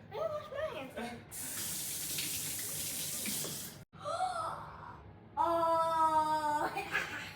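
A kitchen or bathroom tap runs steadily for several seconds as hands are washed beneath it, a broadband rush of water that stops briefly, then resumes with a brighter splashing tone while kids chatter around it.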